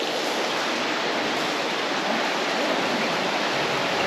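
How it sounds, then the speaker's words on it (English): Swollen creek rushing through Bristol Caverns after rainfall, a loud continuous broadband roar of fast water echoing in the cave, steady throughout with no talk. "that creek is huge. It's normally not quite this huge, though. It's very swollen because of the rainfall."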